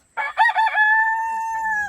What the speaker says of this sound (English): Sometimes they crow too much. That's just how roosters are.